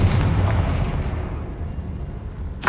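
A Confringo spell blast in Hogwarts Legacy, a loud explosive burst that decays into a sustained rumbling roar, followed at the very end by a sharp new impact.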